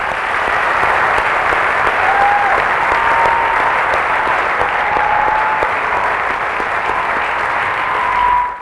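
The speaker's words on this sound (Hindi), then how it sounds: "आपके लिए एक जोरदार तालियां होनी चाहिए" Loud audience applause at a motivational network-marketing seminar, a sustained wash of many hands clapping evenly for over eight seconds before cutting off, with a faint whistle or tone riding over it.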